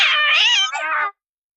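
A cartoon cat lets out a single drawn-out, wavering meow lasting about a second, loud and close, then silence.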